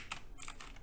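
Faint clicks of fingers typing on a computer keyboard during a JavaScript coding session come in an irregular burst of quiet keystrokes.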